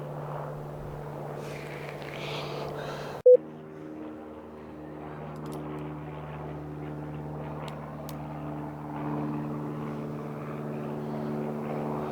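A propeller aircraft circles overhead, producing a steady droning hum that fades slightly and then swells again as it passes around. A single sharp click cuts in early.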